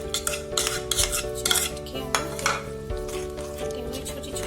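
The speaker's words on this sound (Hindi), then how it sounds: "सूजी मिला लेंगे" A spoon stirs semolina into gram flour batter in a bowl, giving close, irregular metallic scrapes and clinks against the bowl.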